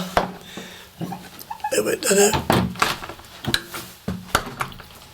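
A locked church porch door is tried and rattled, giving several sharp knocks and thunks with a brief clatter of the latch, close by, mixed with people talking.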